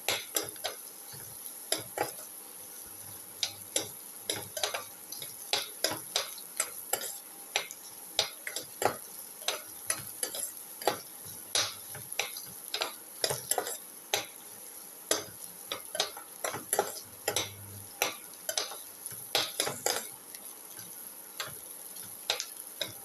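Carom seeds, ginger and shallots sauté in a pot, with frequent sharp clinks and scrapes of a spoon stirring against the metal over a soft, quiet sizzle.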